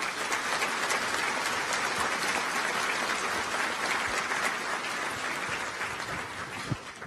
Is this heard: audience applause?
yes